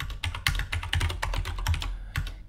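Rapid, close typing on a computer keyboard, with dense clattering keystrokes in quick irregular bursts and a short pause just before a final few taps.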